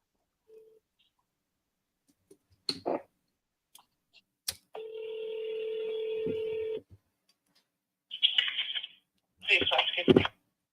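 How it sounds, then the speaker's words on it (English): A phone call placed on speakerphone: a few clicks, then a single long steady ringing tone, followed by two short bursts of harsh, crackly line sound. "I'm going to call her right now on speaker on my phone."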